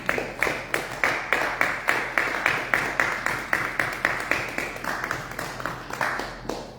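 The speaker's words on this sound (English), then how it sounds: "if you'd like to break the spell just a little bit and applaud for our band, I invite you to do that" An audience applauds a live band in rhythmic, evenly spaced claps that keep a steady beat throughout, moderately loud and with no voices over them.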